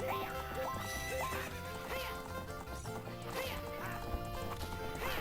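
A horse whinnies and hooves clip-clop in the video game Zelda: Ocarina of Time, repeated neighs layered over busy in-game music at fairly loud level.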